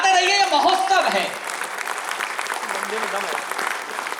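An audience at a Hindi poetry recital during the Taj Mahotsav festival in Agra, 2024, breaks into sustained applause right after a voice, the clapping continuing steadily to the end.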